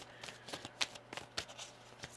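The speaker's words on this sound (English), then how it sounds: "One more shuffle here." Quick papery riffles and soft slaps of a tarot deck being shuffled, several bursts in a row, close and fairly quiet.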